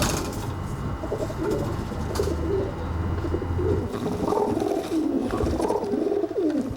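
City pigeons coo at a nest where a male guards a female preparing to lay eggs: repeated throaty coos rise and fall over several seconds, close, with a steady background murmur and no talk.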